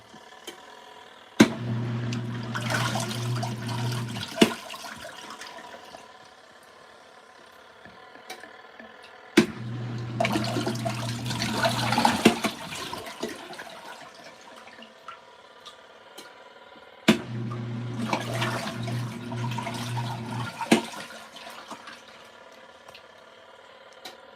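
A washing machine on its rinse cycle runs water into the drum in three separate bursts of rushing, splashing flow, each lasting a few seconds with quieter pauses between, joined by a low hum and sharp clicks at the start and end of each burst.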